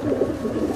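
A Madrasi pigeon gives a short, close run of low, throaty cooing pulses, alone with no other sound.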